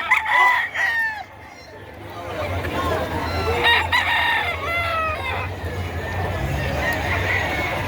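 Roosters crow repeatedly at a busy Padre Garcia, Batangas chicken market, with several rising calls overlapping near and farther off over a steady crowd murmur and people talking.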